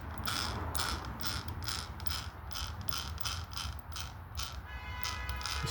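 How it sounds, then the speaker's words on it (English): A spline gear on the yoke of an OFNA eighth-scale RC buggy makes rapid, repeated ratcheting clicks. The clicks come in a steady rhythm, close and fairly quiet, with no voices. "it sounds like it's inside the spline gear on the yoke"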